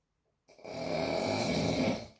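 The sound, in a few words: dog snoring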